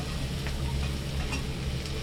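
Cashews, green chillies and onion sautéing in butter in a pan for butter chicken masala, a steady close sizzle and frying crackle with faint stirring ticks and no talk.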